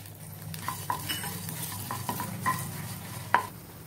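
Coriander seeds sizzle in a couple of drops of oil in a pan, a soft frying hiss broken by repeated sharp scrapes and taps of a spoon against the metal.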